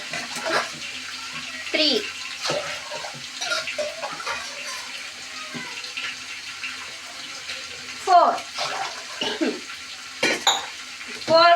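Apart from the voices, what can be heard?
pouring water into a pot of rice for bagara rice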